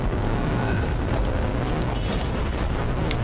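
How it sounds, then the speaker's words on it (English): A loud, rumbling cannon boom from the video game Sundered, with a deep blast that lingers across several seconds of dense, noisy roar and no talk over it. "Cannon, boom!"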